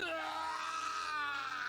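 A sustained, strained scream from a boss shifting to its second form in the Langrisser video game, loud and continuous with a wavering, groaning tone.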